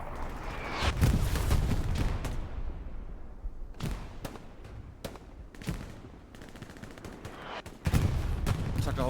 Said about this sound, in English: explosions everywhere, including grenades and other weaponry.